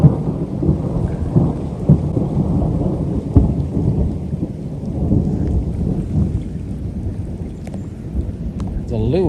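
Deep rolling thunder rumbles on and on through woods up north, with steady rain hissing beneath it and a few sharper cracks, loud and continuous, with a voice talking intermittently.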